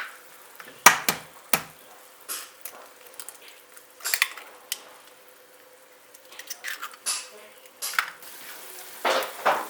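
Eggs being stirred in a frying pan for a breakfast dish, with soft intermittent scrapes and light clinks of a utensil over a faint, quiet sizzle, no talking.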